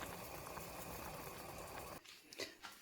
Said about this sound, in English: beef boiling here